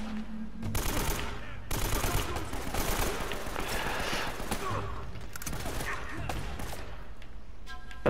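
Enemy gunfire in Uncharted: Drake's Fortune, dense rapid bursts of automatic shots and repeated cracks close by, continuous throughout with occasional talk over it.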